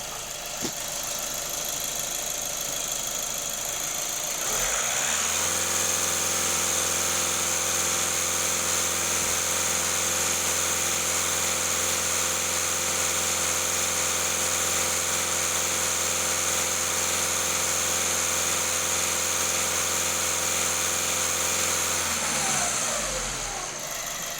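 A cold VW Golf 1.6 TDI diesel engine idles steadily with a clattering hum and a high whine, close and continuous after starting up, with no talk.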